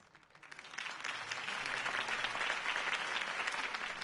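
Crowd applause after a campaign speech in the Batman Telltale video game, swelling from quiet to a sustained, dense clapping that continues to the end.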